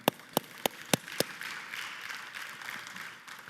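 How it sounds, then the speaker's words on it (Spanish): A church congregation claps: five sharp, evenly spaced claps ring out first, then a softer, diffuse patter of hands and murmur continues. "Fuerte aplauso."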